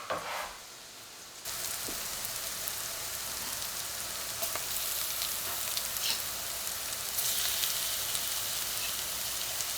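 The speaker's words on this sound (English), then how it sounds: "I just added the frozen minced garlic, and that will thaw pretty quickly and cook very fast" Mushrooms and frozen minced garlic sautéing in a pan, a steady broad sizzle that starts abruptly after a quiet moment and continues close and even, with a few faint stirring taps and no talk.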